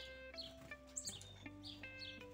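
Several caged wild songbirds kept indoors give short chirps and tweets, a few scattered calls close by over a quiet background.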